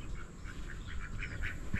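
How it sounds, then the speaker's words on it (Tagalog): A duck quacks in a short series of calls at a rural fish pond, faint and somewhat distant over a low background rumble. "May itik doon."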